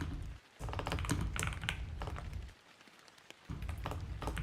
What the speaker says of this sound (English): just getting the typing in here